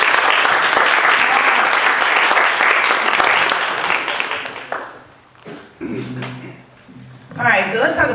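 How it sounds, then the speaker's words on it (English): An audience at a Black History Month community event gives dense, loud applause that fades after about five seconds, followed by talking and a brief swell of voices. "Give yourselves a round of applause for being here and supporting."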